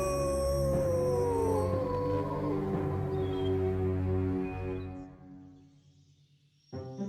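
A big bad wolf howls in a long, sliding, drawn-out cry over steady tonal background music, the howl fading out near the end before the music swells again.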